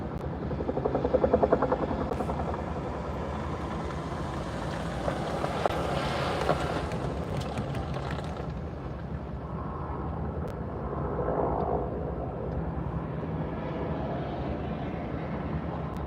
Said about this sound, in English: You can see the chopper in the frame now.